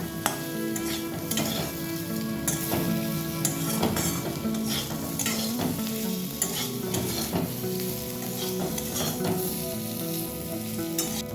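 Chilli fish sauce in a frying pan sizzles steadily and close up while a utensil repeatedly scrapes and clinks against the pan in an irregular stirring rhythm, with no talking.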